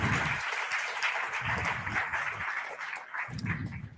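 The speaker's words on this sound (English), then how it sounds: "big applause for that" Audience clapping at a closing ceremony, a dense wash of applause with intermittent low bursts and a few sharper claps, continuing steadily for several seconds without speech.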